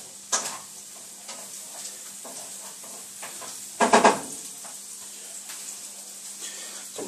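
Onions sizzle softly in a frying pan for a paprika and mushroom dish, a quiet steady crackle with scattered stirring scrapes and one louder clatter of utensils in the middle, no talk.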